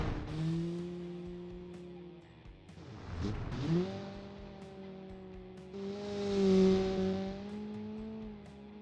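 Evo 9 replica car in BeamNG.drive on the Pikes Peak gravel map, its engine holding a steady tonal drone that drops and then climbs again as it revs, with faint crunching grit beneath, no talking.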